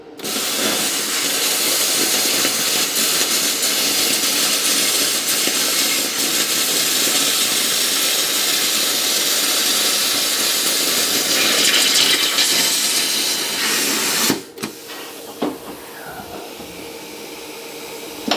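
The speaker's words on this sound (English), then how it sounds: "Right, we'll do the aluminium first. You do get a lot of fumes off aluminium." An R-Tech P32D plasma cutter slicing through aluminium gives a loud, steady roaring hiss for about fourteen seconds, then cuts off abruptly, leaving quieter hiss and a few small clicks.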